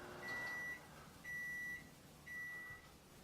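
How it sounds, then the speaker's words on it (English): A microwave oven timer sounds while a potato cooks inside: three clear, evenly spaced electronic beeps, each about half a second long, close and alone, with a soft hum running beneath. "that beeping means that the first 5 minutes is finished"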